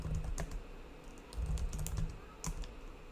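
Computer keyboard typed on while entering a sudo wget command at a Linux terminal, pasting with Control Shift V and pressing Enter: a few scattered, crisp key clicks, close but quiet, with no voice.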